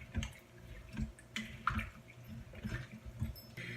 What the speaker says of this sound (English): go ahead and stir this around.